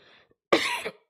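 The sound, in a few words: person coughing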